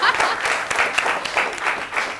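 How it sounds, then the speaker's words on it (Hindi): Audience applause at a Bollywood film event honouring director Madhur Bhandarkar, a crowd clapping briskly in a continuous burst, moderately close, with no speech over it. "तालियां।"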